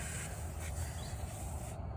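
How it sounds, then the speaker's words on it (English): Foliar fertilizer sprayed around the roots of a zucchini plant in a garden bed: a steady soft hissing spray lasting nearly two seconds, then cutting off, with no voices. "and I also spray around the roots."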